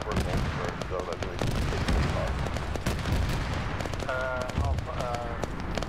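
Stubber turret gunfire in a Warhammer video game battle, rapid dense bursts of shots and booms running continuously and loudly, mixed with other battle noise.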